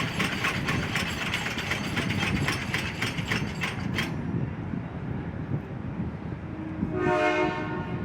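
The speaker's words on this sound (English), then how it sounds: "That horn signaled that the train stopped." A train horn at Steamtown sounds in repeated loud blasts over an idling locomotive, then cuts off, with a brief squealing tone near the end.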